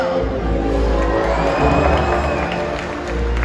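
An audience in a SeaWorld Orlando killer whale show stadium cheers and shouts, a loud crowd roar that swells and dips over a few seconds with children's voices in it.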